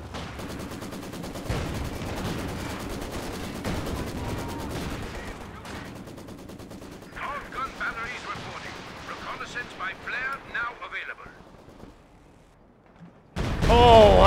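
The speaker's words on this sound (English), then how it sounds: "we've got this Stuka's about to fire." Stuka dive bomber attack in a World War II strategy video game, heavy booming gunfire and explosions in a dense rumbling stretch, followed by crackling bursts and a sudden loud blast at the end.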